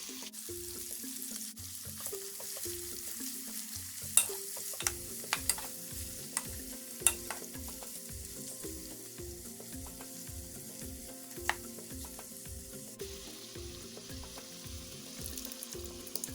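Onions, garlic and ginger fry in oil with rosemary in a pan, a steady close sizzle with repeated rhythmic stirring scrapes and a few sharp clinks, no voices.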